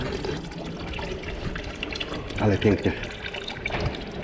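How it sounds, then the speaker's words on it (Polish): A small indoor fountain splashes steadily in a building lobby, with continuous running water close by while a person speaks over it. "Mała fontanna."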